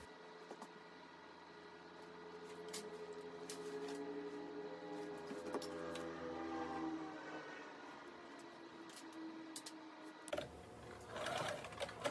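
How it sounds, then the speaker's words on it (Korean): A sewing machine runs a holding stitch to fix elastic beside a pocket on a denim jumper skirt, humming steadily and quietly for about ten seconds before a short clatter as it stops. "주머니 양옆에 고무줄을 고정 스티치로 고정해서 박아줍니다."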